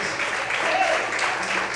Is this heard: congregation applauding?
yes